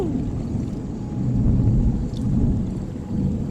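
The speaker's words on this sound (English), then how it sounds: "We have hit our target humidity. And it's going to rain." Deep rolling thunder rumbles over steady rain in a post-apocalyptic factory city-builder game, the low roar swelling midway and lingering, loud and close with no voices.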